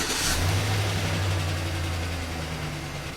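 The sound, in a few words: Chevrolet Silverado engine starting and running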